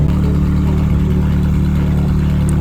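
A Ferrari 458 engine drones loudly and steadily, a deep sustained roar with slight variations in revs.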